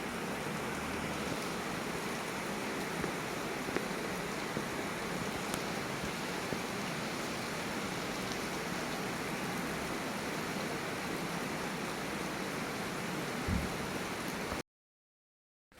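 Steady rain falls in Itanagar, a continuous dense hiss that stays even and fairly loud throughout, then cuts to silence at the very end.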